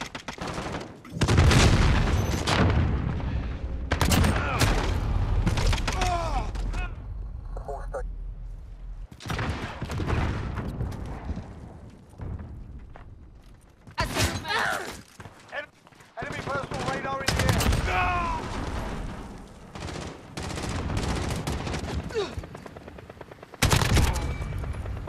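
Gunfire in Call of Duty: Modern Warfare on the Crash map in a hardcore match, with loud, rapid automatic bursts and heavy shots in repeated volleys, broken by brief lulls, with voices over it.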